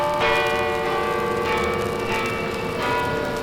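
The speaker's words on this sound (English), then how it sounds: "Well, what do you know? The bells!" Bells ringing in a bell tower in a cartoon scene, a dense, loud metallic clangour with sustained ringing tones and fresh strikes about every second, steady throughout.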